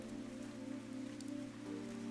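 Steady rain pours in the video game Fantasian Neo Dimension, a continuous even downpour with a soft hiss of drops on a surface, held at a constant level without any voices.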